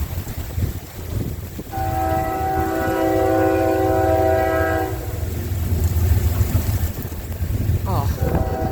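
A Norfolk Southern freight train led by locomotive 7501 rolls through rain at Springdale, Pennsylvania, with a close, rumbling drone under a loud, sustained multi-tone horn blast lasting about three seconds.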